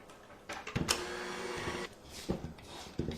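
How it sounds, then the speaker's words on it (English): An electric mixer beats dry ingredients into the wet batter for a fruitcake with a close, buzzing motor whir that surges and dips, broken by brief knocks against the bowl. "Now I'm going to beat the dry ingredients into the wet ingredients until they're well mixed."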